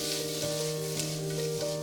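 Shrimp for pad thai cooking in a pan, giving a steady close sizzle and frying crackle with a faint hum underneath and no talking.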